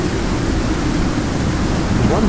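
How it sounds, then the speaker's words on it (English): Heavy rain from a thunderstorm in a mining video game makes a loud, dense, steady hiss with a low rumble beneath, continuous and close throughout. "One massive storm. It's been going for a while now."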